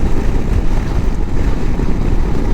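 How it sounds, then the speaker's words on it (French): Strong wind roars and buffets against the microphone in a loud, continuous, rumbling rush. "Toujours avec ce vent implacable."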